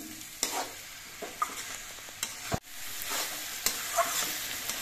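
Red amaranth greens cooking with potatoes in a pan are stirred, giving a soft continuous sizzle broken by scraping strokes and a few sharper knocks of the utensil against the pan, close up with no talk.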